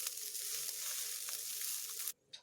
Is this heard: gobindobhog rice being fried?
yes